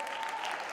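A brief, steady burst of audience applause, many hands clapping together at an even level throughout, with no voices over it.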